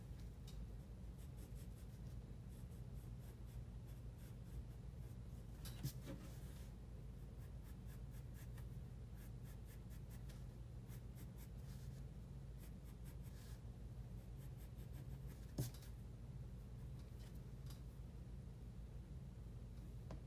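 Pencil lead scratching and rubbing across paper as a spade shovel is sketched and touched up, with eraser strokes mixed in; a steady, soft, close scratching texture runs throughout under faint room hiss, with a couple of sharper strokes.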